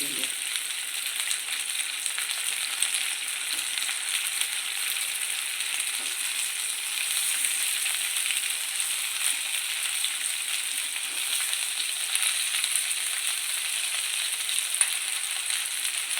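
Stuffed okra frying in a pan over medium heat gives a steady, even sizzle that holds at close range for the whole stretch, with faint scattered crackles and no voices.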